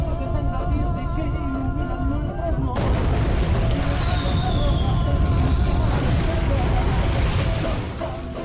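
Booming volcanic explosions watched from a vantage point near the crater at sunset, a dense, loud rumbling roar with a sharp surge midway and sustained crackling blasts, heavy and continuous throughout.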